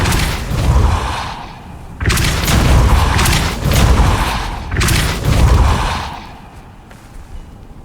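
Heavy booming spell blasts in the Hogwarts Legacy video game, four loud thudding impacts with long rumbling tails spaced about a second apart, followed by quieter ambience.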